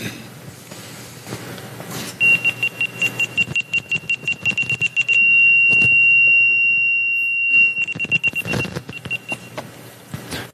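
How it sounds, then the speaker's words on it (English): A FenSens parking sensor fitted to a 1969 Karmann Ghia gives a high electronic beep that speeds up into a rapid series, holds as one steady tone, then breaks back into quickening beeps over faint background noise. "audio, visual, and vibration alerts for objects detected in front or behind your vehicle"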